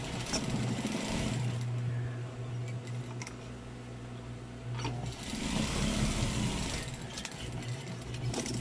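A sewing machine runs steadily, stitching the end of a balanced seam on a duvet cover, with a continuous close motor drone and brief pauses and slowdowns partway through.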